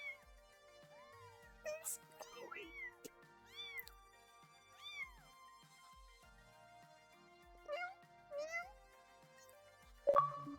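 Kittens in a box meow repeatedly in a video game, several rising and falling mews in irregular bursts, fairly clear and close over a soft background tone, with a few sharp cries near the end.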